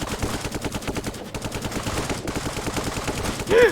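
Rapid automatic gunfire from the video game Brick Rigs rattles in a steady stream of evenly spaced shots, loud and continuous for several seconds, with a brief heavier burst near the end.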